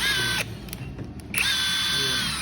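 Ingco cordless battery drill whirring in forward with a high steady whine, briefly dropping off mid-way before spinning up again, close and fairly loud.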